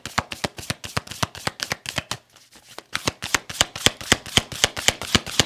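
A tarot card deck being shuffled in a steady run of crisp riffling snaps, with a brief pause midway before the rapid flutter resumes, close and clear with no talking.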